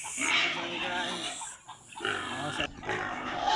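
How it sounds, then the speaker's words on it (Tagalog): Hungry pigs at feeding time on a farm, loud, continuous squealing from a crowd of animals, nearby, with a voice in the mix. "saba na kayo ang mga baboy guys oh. Gipanggutom na gyud."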